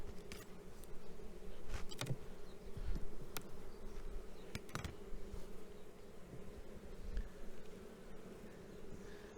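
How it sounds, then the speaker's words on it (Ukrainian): A steady, dense buzzing of many honey bees inside a hive with drones and young bees, close and continuous, with a few faint clicks and thumps over the drone. "Є трутень, є молода бджола."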